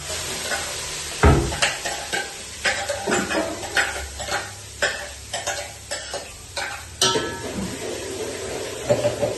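Tomato gravy poured into a hot pan of sizzling vegetables for a Gujarati curry, giving a burst of loud frying hiss followed by repeated scraping and stirring clatter against the pan, close and steady with no talking.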